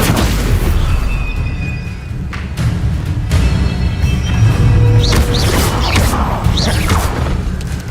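Casting the Stupefy spell in Hogwarts Legacy sets off heavy booming magical blasts and crackling impacts, loud and close, layered over a rumbling game soundscape.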